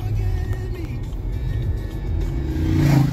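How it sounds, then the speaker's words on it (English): A car passes close by on a road over the Moors, its mid-pitched engine rising in a steady rev that swells louder toward the end, heard from inside another moving vehicle. "Oh, look, guys, that's a nice car."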